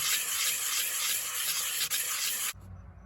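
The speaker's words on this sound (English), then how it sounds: "go with a finer grit, try to get a little polish out of the stone" Fine-grit sandpaper rubbed over a stone being polished for a handmade necklace, a close, steady rasping that runs continuously and then stops abruptly near the end, leaving quiet.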